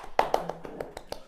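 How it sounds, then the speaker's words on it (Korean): Hands clap in an uneven series of sharp, close smacks in a classroom, about seven in all, the first two loudest and the rest tapering off. "그렇지! 박수!"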